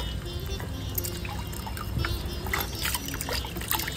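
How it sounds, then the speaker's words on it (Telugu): Water poured over wild country mushrooms to wash soil from their edges, a steady close trickle and splash with small irregular drips running continuously. "మా భార్గవి ఇదిగో కడిగేటప్పుడు ఇదిగో ఇట్లా ఈ అంచులో ఉంటే మట్టి ఉంటది ఇట్లా శుభ్రంగా కడుక్కోవాలి"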